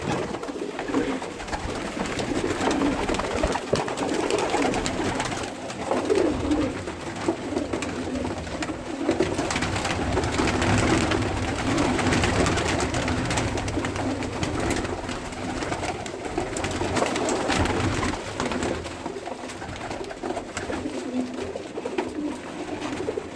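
Pigeons coo steadily at a loft where young racing birds have been moved to a rooftop, the soft rolling calls continuing through a constant background hum with no talk.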